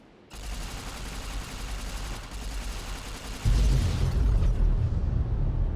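Explosives detonate in the video game Fallout: New Vegas, a dense continuous roar of blasts that swells abruptly halfway through into a heavier, louder rumble and keeps going to the end.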